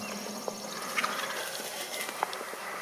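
Wild turkey gobbler at the edge of the woods beyond a field, giving a few faint, distant gobbles and clucks over quiet outdoor background.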